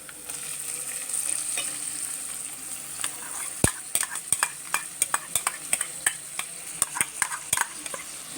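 Chopped onions and green chilies sizzle in hot oil in a pan while a utensil stirs them, giving a steady close frying hiss broken by sharp, irregular scraping clicks against the pan.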